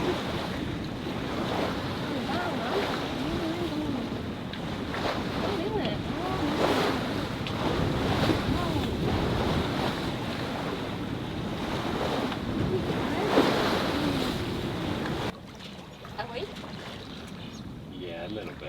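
Sailboat moving slowly at about 3 knots through tropical sea waves, with steady surf wash, water slapping the hull and wind buffeting the microphone throughout, voices talking over it, the rush dropping away near the end.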